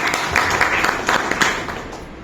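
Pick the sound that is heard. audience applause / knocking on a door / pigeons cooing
audience applause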